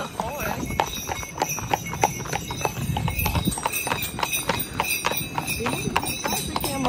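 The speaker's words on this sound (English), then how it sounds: "We are riding the horses in the carriage." Hooves clip-clop steadily on pavement as horses pull a carriage in Romania, a rattling rolling noise underneath, with people talking in the background.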